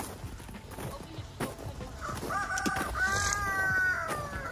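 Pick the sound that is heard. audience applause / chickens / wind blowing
chickens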